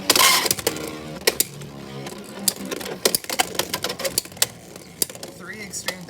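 Beyblade Wizardrod tops spinning and clashing in a plastic stadium, a rapid series of sharp clacks and rattling impacts at close range, with voices calling out over the battle.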